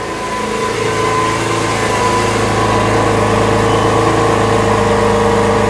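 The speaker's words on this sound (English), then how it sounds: "Let it just idle for just a second." A 2017 Lamborghini Aventador S idles steadily in Corsa mode, a loud, continuous engine rumble with a low droning tone that holds evenly throughout with no talking.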